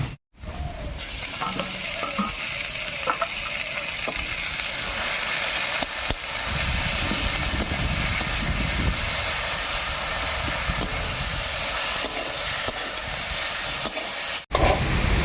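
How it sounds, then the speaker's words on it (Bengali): Onion, garlic and green chili fry in oil as boiled taro leaves go in, giving a continuous close, even sizzling hiss that holds steady for the whole stretch after a brief start, with no talking. "পেঁয়াজ রসুন কাঁচা লঙ্কা সবই ভাজা হয়ে গেছে এবার এর মধ্যে দেবো নামিয়ে রাখা কচু শাকটা"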